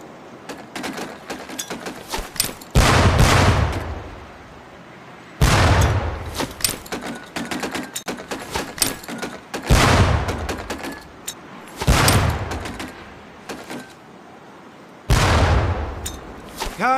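Training grenades bursting near barrels in a Medal of Honor Pacific Assault boot camp, five loud blasts spaced a few seconds apart, each with a rumbling tail, over a constant background of distant gunfire.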